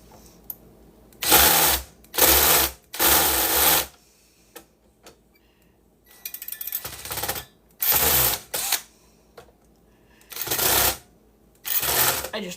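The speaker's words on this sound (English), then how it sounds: "I think my drill bit is dull." Electric drill with a dull bit working on computer blade server parts, several loud whirring bursts of one to two seconds each, separated by quiet pauses, close by.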